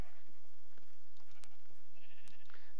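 Sheep bleating in the blocky video game Minecraft, a couple of short, faint game bleats over quiet background noise.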